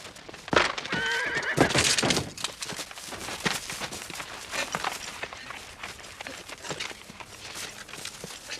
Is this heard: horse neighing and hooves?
yes